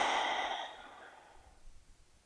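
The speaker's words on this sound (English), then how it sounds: "Coming back to the breath. Back to the Ujjayi breath." Ujjayi breathing during yoga practice: a single long, audible oceanic exhale that starts strong and fades out, close and alone.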